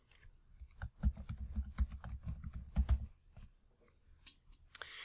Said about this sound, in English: Then I'll type my name in.